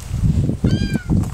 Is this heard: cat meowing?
yes